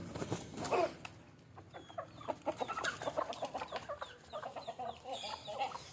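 Several free-range native country chickens cluck and chatter close by in short, overlapping bursts, with the occasional louder squawk among them.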